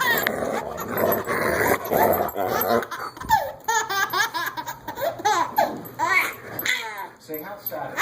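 Dogs barking and yelping in an excited, playful scuffle, with bursts of loud human laughter and someone talking over them throughout.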